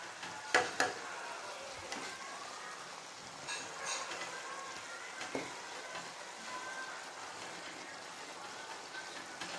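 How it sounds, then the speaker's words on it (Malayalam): Beaten rice (avil) being stirred as it fries in a pan over low heat, giving a soft, steady scraping and light sizzle with a few sharper clinks of the utensil against the pan near the start. "ചെറിയ ചൂടിൽ ഇത് നന്നായി സെറ്റായി വരുന്നത് വരെ ഇളക്കി കൊടുക്കുക."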